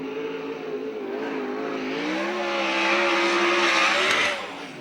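A USAC/CRA sprint car, Car 75 driven by Davey Pombo, races at Santa Maria, its engine a loud sustained wail that rises and dips in pitch as it goes around the track, then drops off toward the end.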